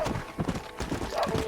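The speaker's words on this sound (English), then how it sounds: "Come on, horse." Galloping hooves of a horse in the Red Dead Redemption video game, a rapid close clip-clop rhythm with a faint whinny, brief and steady.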